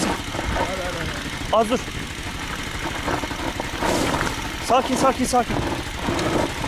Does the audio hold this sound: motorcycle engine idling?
yes